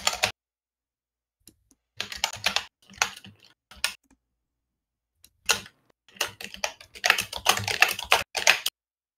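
Computer keys clatter in quick, irregular bursts with short pauses between them, fairly close and quiet, with no voices.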